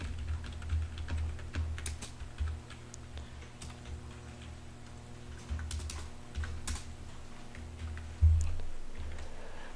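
Someone types JavaScript code on a computer keyboard during a web coding lesson, the soft clicks coming in irregular bursts close by over a faint room hum, with one louder thump near the end.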